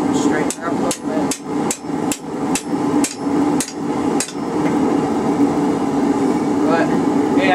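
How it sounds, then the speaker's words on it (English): A hammer forges a steel bar, squaring it off while making a hold-fast tool. Roughly ten loud, close, evenly spaced blows ring out, then stop, leaving a steady hum of machinery. "Alright, just keep squaring off the bar"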